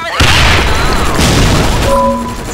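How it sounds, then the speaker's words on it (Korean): A grenade explodes in the online shooter Sudden Attack, a loud close boom that rolls into a rumbling burst and fades out over a couple of seconds, with no voices. "수류탄 투척"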